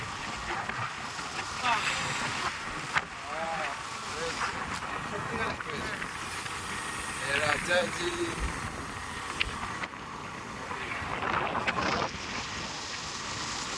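Strong cold wind roars and buffets continuously against the microphone, with a faint voice now and then underneath.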